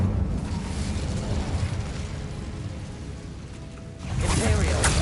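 The Incendio fire spell cast in Hogwarts Legacy, a roaring, rumbling burst of flame that holds steady, dips, then surges again near the end, with a voice speaking over it.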